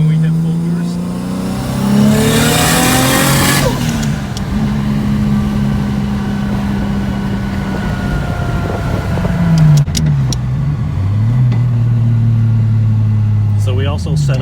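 A Toyota 1JZ-GTE engine in a Toyota Cresta JZX90 climbs in pitch as the turbo spools toward full boost, a loud close engine note rising, dipping through gear changes, and rising again, with someone speaking over it.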